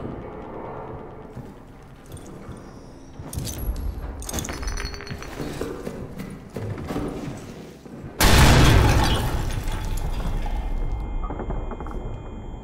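An explosion in the horror video game Amnesia: The Bunker, a sudden loud blast with shattering debris and rumble that follows earlier clinks and creaks of game ambience, then keeps roaring on.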